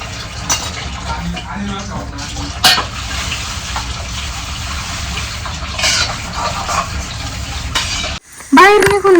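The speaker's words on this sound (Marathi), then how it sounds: "मीच ना भांडे घासून घेते" Running water splashes and clatters as dishes are scrubbed and rinsed, with occasional clinks and a voice briefly speaking at the end.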